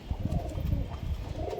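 Desi high-flyer pigeons at a sale in Nabadwip give low, muffled coos, close and indistinct under a dense rumble of handling noise.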